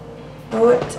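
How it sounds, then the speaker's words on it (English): After a moment of quiet, a short, soft hiss of face mist sprays out in one brief burst. "I'm just gonna spray this over my face before I start with my foundation."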